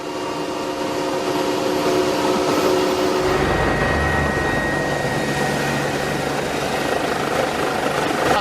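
A rescue helicopter's loud, steady rotor roar and whine while lifting a fallen hiker on a stretcher, continuous throughout, with the engine tone shifting partway as it changes position.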